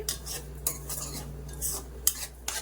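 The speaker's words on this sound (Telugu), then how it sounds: "కొద్దిగా స్విమ్ మీద పెట్టుకొని బాగా ఫ్రై చేసుకోండి" Bombay rava (semolina) being roasted on low heat in a pan for rava kesari is stirred with a metal spoon, which scrapes and clinks against the pan in a steady rhythm with occasional sharper knocks close by.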